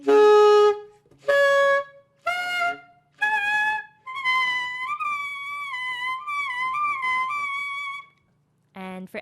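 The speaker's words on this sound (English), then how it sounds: "what you do with overtones on the saxophone" A saxophone sustaining a series of notes rich in overtones, with shimmering upper partials gliding and wavering, played alone with brief pauses between phrases.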